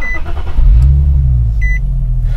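A car engine cranks and starts, settling into a low, loud rumble, with short electronic dashboard beeps before and after.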